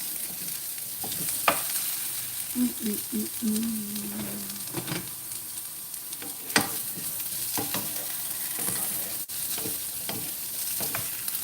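Potatoes fry in a pan, a soft steady sizzle broken by a few scraping stirs and clinks of a utensil, fairly close and without speech.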